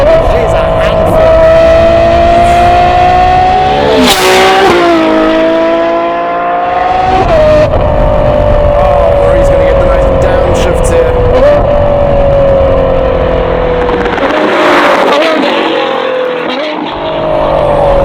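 Naturally aspirated 6.5 litre V12 with a Novitec exhaust, loud and close, revving continuously with repeated pitch climbs and drops through gear changes and sharp crackles on lift-off, filling the whole stretch.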